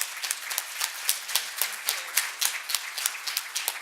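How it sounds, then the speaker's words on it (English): An auditorium audience applauds panelists at a symposium, with dense steady clapping from many hands, fairly close and even throughout. "Please join me in giving our panelists one more round of applause."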